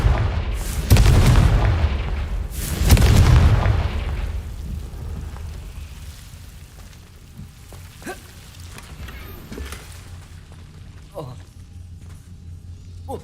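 Confringo fire spells blast in the video game Hogwarts Legacy: two loud, deep booms in quick succession, each rumbling away, followed by quieter scattered crackles and pops.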